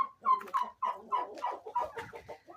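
Chickens cluck in a steady run of short, rhythmic calls with a young rooster among them, close by in a yard and heard alone.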